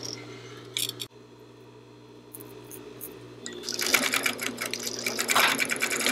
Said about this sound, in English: You want to be careful, you're sewing through a lot of fabric.